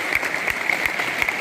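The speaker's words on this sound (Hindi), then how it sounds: "आप सब जोरदार तालियों से इनका अभिवादन और अभिनंदन करें।" Applause at a school motivational seminar and prize-giving event, a brief steady patter of clapping from the audience, moderately loud and continuous.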